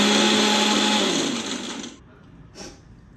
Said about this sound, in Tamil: இந்த பூண்டு வெங்காயம் எல்லாம் அரைப்படுற அளவுக்கு மட்டும் அரைச்சி எடுத்துக்கோங்க